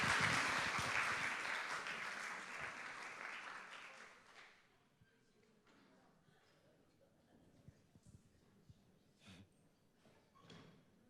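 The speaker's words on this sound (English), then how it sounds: "So please, can you give a warm applause of welcome for Bożena Kopczyńska and Barbara" Audience at a film festival conversation applauding to welcome two guests, a loud burst of clapping that fades out after about four seconds, followed by quiet room noise with scattered small knocks and shuffles.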